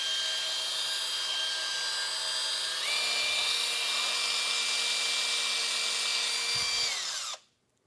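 A small electric mixing wand stirring epoxy whirs steadily at high speed, its motor pitch stepping up once partway through before it winds down and cuts off abruptly, close up with no talking.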